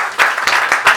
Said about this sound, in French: Je vous prie d'applaudir s'il vous plaît Madame Sylvie.